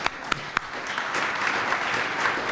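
Audience applause at a civic presentation on Amazon's HQ2 bid, beginning with a few sharp, separate claps and swelling into steady, dense clapping from a crowd that continues evenly to the end.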